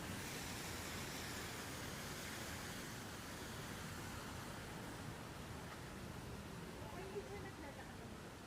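A small fountain in downtown Vancouver splashes continuously, a dense, even wash of falling water close by with faint city background and no clear breaks.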